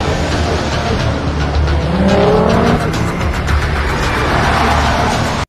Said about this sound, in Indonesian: Lian berkali-kali mencoba mendahului mobil LPS agar bisa membuntuti kakaknya